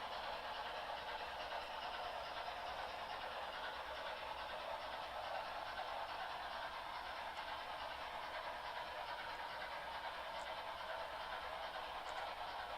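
A model train locomotive runs around a switch curve on a layout, a faint steady rolling rumble with a light hiss continuing evenly throughout, no voices.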